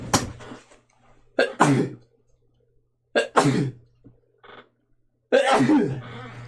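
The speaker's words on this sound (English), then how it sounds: "And I'm gonna sneeze." A loud sneeze bursts out after a couple of sharp intake breaths, followed by more explosive sneezes and gasps, close and alone with quiet pauses between.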